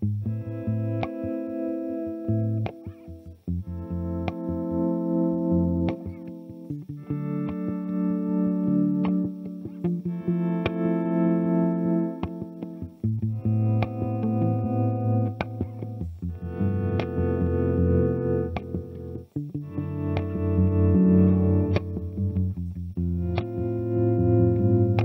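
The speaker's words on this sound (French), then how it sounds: "C'est bien le trémolo sur les accords quand tu fais un swell" Electric guitar chords played with tremolo and delay effects in a looper jam, layered sustained chords pulsing in steady waves and changing every few seconds, loud and close with no talking over them.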